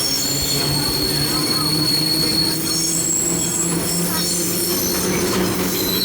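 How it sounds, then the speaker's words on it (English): A vintage Brooklyn Union Gate subway car runs along the tracks, its wheels squealing steadily with a continuous metallic screech over a constant rolling rumble, close and loud throughout. "We are currently on a Brooklyn Union Gate car."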